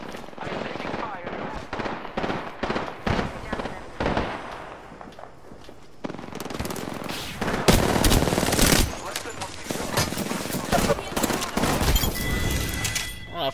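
Rapid bursts of automatic gunfire and scattered shots crackle through a video game firefight as the player comes under fire, loud and dense, with voices talking over parts of the exchange.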